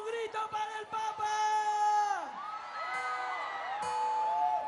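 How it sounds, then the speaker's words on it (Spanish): A crowd gathered for Pope Francis in Puerto Maldonado in the Peruvian Amazon lets out loud sustained shouts and cheering, voices swelling in long whooping cries that rise and fall together. "¡Un grito para el Papa!"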